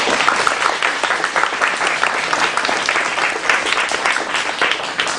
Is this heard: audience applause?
yes